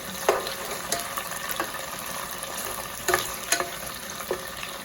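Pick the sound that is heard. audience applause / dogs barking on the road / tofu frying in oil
tofu frying in oil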